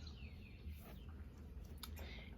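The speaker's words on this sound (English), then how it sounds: "listening to the birds," Morning birdsong outside a front porch, light chirps and tweets sounding faint and somewhat distant over low background rumble.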